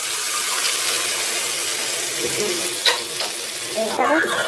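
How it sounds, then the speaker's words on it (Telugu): A strong, continuous sizzle from a hot pan as thick boiled lentils are poured into a tempering, with a few brief splashy bursts toward the end. "ఇందాక ఉడకబెట్టుకున్న పప్పుని ఈ తాలింపులో ఇలా పోసు"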